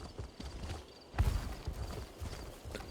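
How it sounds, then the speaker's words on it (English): Horse hooves clip-clopping in the video game Elder Scrolls Online, a steady rhythmic thudding that grows louder after a short quieter start, with no talk over it. "Oh, then let me get on the horse."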